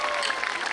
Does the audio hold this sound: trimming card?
no